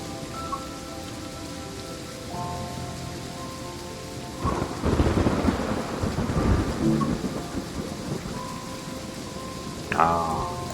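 Thunder in the train simulator game Train Sim World 3 rolls in as a heavy, crackling rumble through the middle, over steady rain, with tonal game sounds before and after.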